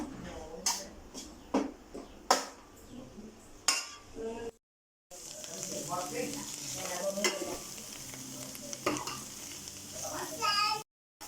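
Pork mince frying in a pan, with sharp spoon scrapes and clinks against the metal over a quiet sizzle, close by, broken by a short silent gap before the stirring and frying continue.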